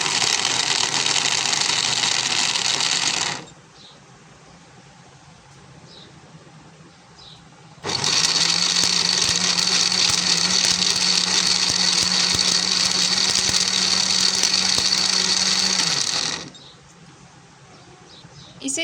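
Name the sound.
blender blending falsa berries with salt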